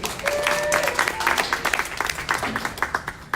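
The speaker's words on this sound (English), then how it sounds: "So give everybody a round of applause." A group claps and applauds, starting dense and then thinning into scattered, uneven claps. A few voices sound briefly over the clapping.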